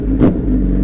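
A motorcycle with a new, shorter aftermarket exhaust gives a brief, loud rev, a single deep rumbling burst at close range.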